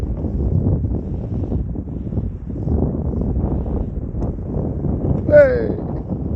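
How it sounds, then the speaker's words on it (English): Strong wind sweeps across an open golf course, a steady low buffeting rumble against the microphone throughout, with a single sharp shout from a voice near the end. "There's a very strong wind."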